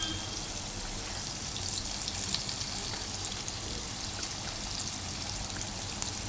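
Aloo gobi tikki frying in hot oil in a pan, a steady broad crackling sizzle that runs throughout at moderate, close level with no talk.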